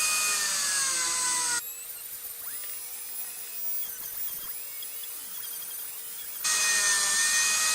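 A Dremel rotary tool cuts around the eye of a mask with a loud, bright high-pitched whine that drops to a quieter, muffled grind for several seconds in the middle and then rises again.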